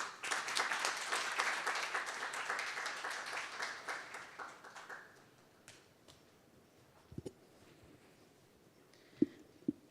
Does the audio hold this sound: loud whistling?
no